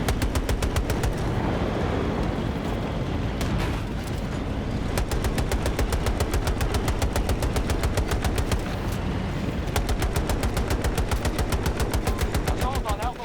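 Tank machine gun fire in a video game, long sustained bursts of rapid evenly spaced shots, loud and close, with short pauses between strings of fire.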